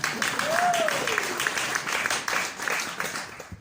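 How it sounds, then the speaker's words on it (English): Applause from a festival audience at an opening-night literary performance, a steady broadband patter of many hands lasting throughout, with a voice and a brief rising whistle-like tone heard over it. "Round of applause."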